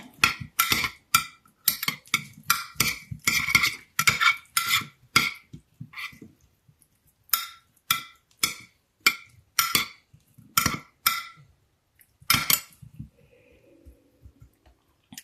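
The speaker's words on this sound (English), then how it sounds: "Now I'm going to stir this up." A utensil stirs a taco chicken mixture with salt and pepper in a pan. Close, rhythmic clinks and scrapes come in quick bursts with short pauses, and there is no talking.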